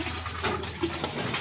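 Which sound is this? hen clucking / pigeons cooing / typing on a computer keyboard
pigeons cooing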